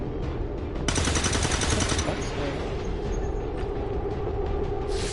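Rapid bursts of video game gunfire with a dense, steady clatter of shots and a loud stretch of crackling noise, set against a busy war-game soundscape.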